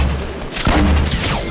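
A loud, sharp sniper rifle shot rings out in Fortnite Battle Royale, with a booming crack and a trailing echo over a dense background of game noise.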